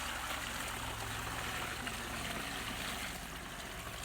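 Water pours steadily into a container of comfrey leaves being made into garden fertiliser, a continuous close splashing rush that keeps the same level throughout.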